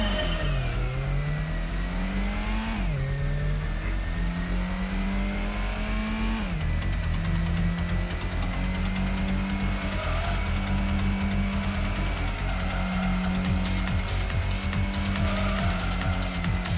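Race car engine in the Gran Turismo video game revving hard through repeated gear shifts, with tires squealing and skidding, loud and continuous throughout with no talk.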